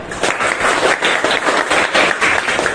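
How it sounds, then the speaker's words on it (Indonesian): A class of students in a classroom claps together, a dense burst of applause held steady for a few seconds. "Tepuk tangan."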